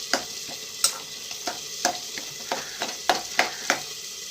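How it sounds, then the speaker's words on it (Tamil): Tomatoes stirred as they sauté in a pan for a tomato stew, a soft frying sizzle broken by steady scraping strokes of the spoon about every third of a second, close and without speech. "தக்காளி வதக்கும் போது இந்த மாதிரி கிளறி விடணும்"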